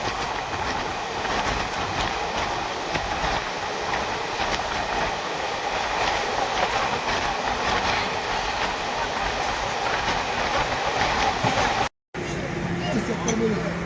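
The 12131 Dadar–Shirdi Sai Nagar Superfast Express runs at night, a loud continuous rumble of wheels and carriage noise heard from onboard, with a brief dropout near the end.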